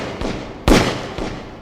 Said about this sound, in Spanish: y dispara 2 tiros al aire para advertir a cualquier posible viajero que la ruta está ocupada